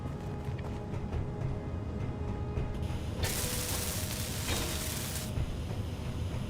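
Welding in the Space Engineers video game, a steady mechanical ratcheting grind with a brighter hissing spray surging in the middle, moderately quiet and heard alone.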